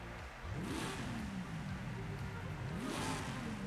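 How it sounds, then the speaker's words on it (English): A Mitsubishi Lancer Evo engine in Forza Horizon 5, fitted with a 2-liter 4-cylinder swap, revs up loudly twice with rising then falling pitch, close and continuous. "That is not the noise that should be coming out of the Lancer Evo."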